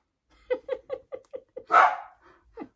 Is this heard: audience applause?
no